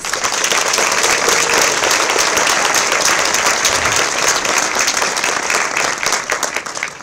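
Loud, sustained round of applause from the crowd for fifth grade students at a school moving up ceremony, dense clapping holding steady throughout and easing slightly at the end.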